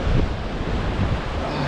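Strong wind buffeting the microphone at the end of a sea pier, a continuous loud roar with low gusty rumble and surf-like hiss, no voices.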